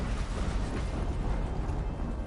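An explosion in the video game Horizon Zero Dawn rumbles as a dense, continuous low roar with crackling debris, fairly loud and filling the whole short stretch without any talk.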